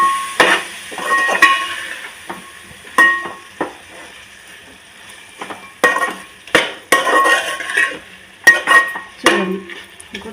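Yogurt is stirred into vegetable pulao in a pot, a spoon scraping and clinking against the metal in irregular bursts with quiet gaps between strokes.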